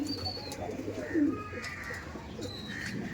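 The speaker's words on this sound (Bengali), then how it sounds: "এই যে পায়রা ছিল আমাদের রাজাদার, লালদম ছিল।" Lal Dom pigeons in a loft give soft, low coos at a moderate distance, with faint higher chirps and steady background hum, and no talking.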